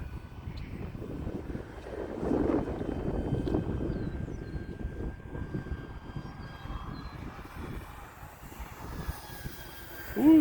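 An E-flite T-28 1.2m electric RC model airplane flies overhead between rain storms, its motor droning and swelling as throttle is added, moderately distant and fading in and out.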